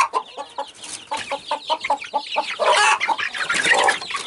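Chickens, including what is likely a young rooster, cluck and squawk in short bursts as they are caught with a long-handled net while middle-aged chicks are moved; the calls are close and grow busier and louder toward the end.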